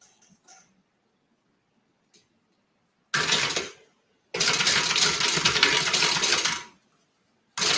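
A sewing machine stitching a zipper onto Italian leather runs in two loud bursts, a short one then a longer steady whir, separated by quiet pauses.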